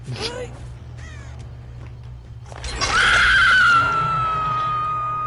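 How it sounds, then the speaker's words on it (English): Survivor character Meg lets out a piercing, loud scream in the Dead by Daylight video game, rising sharply near the middle and held for over a second before trailing off, after some quieter game sounds. "Meg screams so damn loud"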